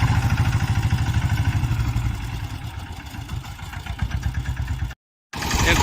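A VST power tiller engine runs in third gear, a loud, steady mechanical chug with clattering close by, broken by a brief dropout near the end before the engine noise returns.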